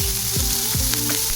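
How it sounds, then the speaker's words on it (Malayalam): Garlic, ginger, pepper, cinnamon, clove, tomato and onion frying in hot oil for a spicy chicken curry, a steady close sizzle with occasional stirring scrapes of a utensil in the pan. "ഇത്ര സാധനം ഇട്ടിട്ട് നല്ലോണം ഫ്രൈ ആക്കുവാണ്."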